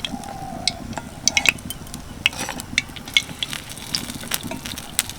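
Semolina fuchka puffs deep-frying in hot oil for crisp Bengali fuchka, a soft steady crackle dotted with sharp ticks and scrapes as the golden-red shells are lifted out, close and fairly quiet with no talking.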